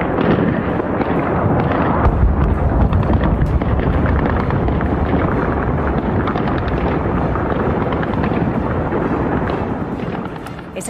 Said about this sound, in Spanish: Ese sonido que acaban de escuchar es el sonido de la metralla de fuego antiaéreo en Kiev.